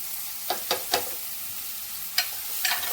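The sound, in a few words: mixing potatoes and capsicum with spices in a pan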